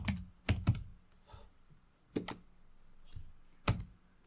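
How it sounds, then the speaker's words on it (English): Quiet, close computer keyboard typing with a few scattered key clicks and sharper double taps. The last tap may be the Enter key. "hit enter on the keyboard"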